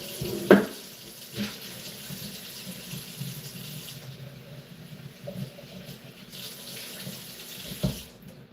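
Tap water runs steadily into a kitchen sink while pumpkin seeds are rinsed under it, with a couple of brief clunks and splashes from handling at the basin.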